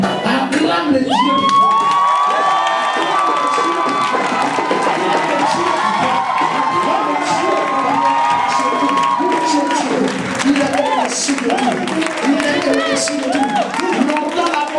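A church congregation cheers and acclaims God with loud crowd shouting, whoops and some clapping sustained throughout, with voices rising and falling in a dense, continuous roar.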